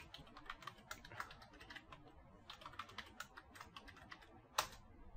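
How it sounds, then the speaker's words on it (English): Root password being typed on a computer keyboard during an operating system install: a quick run of light clicky keystrokes in irregular bursts, close and fairly quiet, with one sharper key hit near the end. "So I'll just type it."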